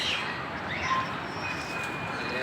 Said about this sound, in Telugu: ఎన్నో పక్షులు, ఎన్నో రకరకాల పక్షులు ఉన్నాయి